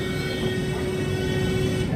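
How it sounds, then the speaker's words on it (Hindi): A train at Firozabad railway station in the early morning, giving a steady low rumble with a constant tonal hum throughout, moderately loud and continuous with no voices. "ऐसा कुछ हाल है रेलवे स्टेशन में फिरोजाबाद का"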